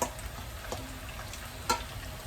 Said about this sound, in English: when I start cooking and frying stuff